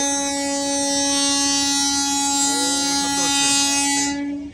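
A toy train's horn sounds in a long, steady, loud blast with a rich harmonic tone at a Darjeeling hill station, nearby and sustained before cutting off, over faint background chatter.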